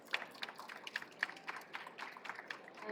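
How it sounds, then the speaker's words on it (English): A small audience at a green living show claps for a panel on environmental issues, a sparse, fairly faint patter of individual claps that never swells into a full ovation. "Can you get a round of applause for our panel?"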